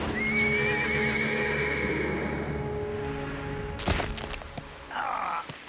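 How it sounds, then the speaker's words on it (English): A horse in the video game Metal Gear Solid 3: Snake Eater gives a loud, close whinny, followed by hoof clops, a sharp crash and a brief higher-pitched sound near the end. "having her horse stand on his hand like this is such a dick move"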